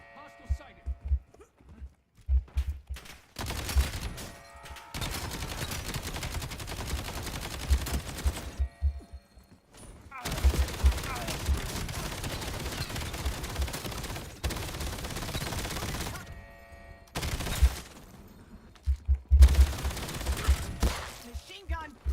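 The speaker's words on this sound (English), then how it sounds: "Machine gun." Bursts of automatic machine gun fire in the shooter video game Black Ops 7, several long rattling volleys broken by short pauses, with game voice callouts between them.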